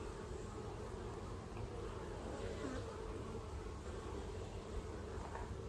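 Honey bees buzz steadily around an open hive during an inspection on a hot day, a dense, continuous hum that is close but fairly quiet, with no talk over it.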